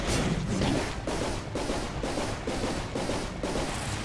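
Explosions and bursts of gunfire-like blasts in the video game Dead Cells, repeating roughly every half second in a dense, loud, continuous barrage with no talking.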